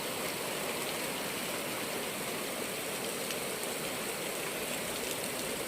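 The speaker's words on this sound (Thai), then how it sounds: "มีลมพัดแล้วก็มีฝนตกมา" Steady rain falls in a gusty wind, a dense, even wash of hiss and patter that holds at a constant moderate level throughout, with no voices.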